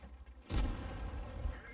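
An artillery shot in World of Tanks: a single deep boom lands after a quiet moment and rolls into a low rumbling tail of explosion noise.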